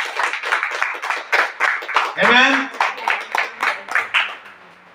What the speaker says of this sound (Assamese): আমি তালি বজাই ঈশ্বৰক ধন্যবাদ কৰিম